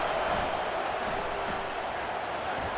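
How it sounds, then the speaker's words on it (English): A stadium crowd in the EA Sports College Football 25 video game roars with a steady, dense wash of cheering that stays even and continuous at moderate loudness throughout, with no talk over it. "listen to the roar of this crowd"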